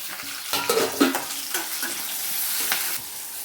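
Curry leaves and tomato pieces frying in a pan for a fish curry give a continuous close sizzle, broken by a few louder scrapes and clinks of stirring in the first half, with no talking.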